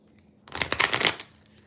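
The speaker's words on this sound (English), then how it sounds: "Let me shuffle these real quick." A short riffle of tarot cards being shuffled, a quick burst of papery flicks lasting under a second, close and fairly soft with no talking.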